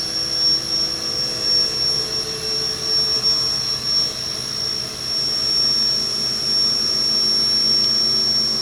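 A 2000 Haas VF-2 CNC mill with a geared spindle spins up toward 7,500 RPM, giving a steady, loud mechanical whine and hum with a high tonal ring and no pauses.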